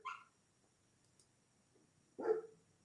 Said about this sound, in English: they all start barking